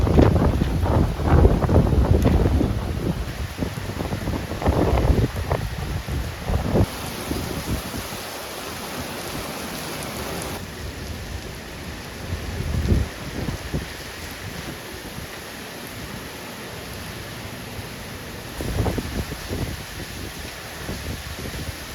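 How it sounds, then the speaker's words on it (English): Heavy wind-driven rain storm in Florida, with gusty wind buffeting the microphone over a steady roar of downpour, rising and falling in loud surges throughout with no talking. "I truly have never experienced rain this aggressive. The rain is almost horizontal because of how windy it is."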